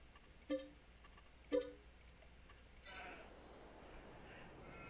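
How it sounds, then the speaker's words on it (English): Sheep bleat in Farming Simulator 22, two short distinct calls a second apart, moderately loud against a quiet farm ambience, followed by a soft rustling wash. "I hear sheepies"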